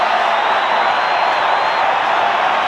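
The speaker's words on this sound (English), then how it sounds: "Listen to that crowd. They love it." A big stadium crowd roars steadily at a 1997 Super 12 rugby semi-final between the Brumbies and Hurricanes, a dense, continuous wash of cheering with no breaks.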